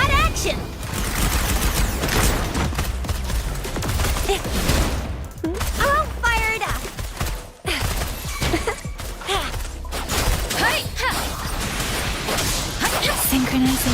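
Gunfire and fusillade bursts in the video game Wuthering Waves, rapid repeated shots and impacts mixed with combat effects and in-game character voice lines throughout.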